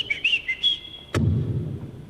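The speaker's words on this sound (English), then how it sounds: "The guy got the penny whistle back out." A penny whistle plays a short run of quick, bright notes during a concert at the Caird Hall. The tune ends in a sudden sharp knock followed by low rumbling noise.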